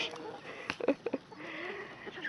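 Chickens on a homestead give a few brief clucks and soft calls, moderately near, under a background of outdoor ambience.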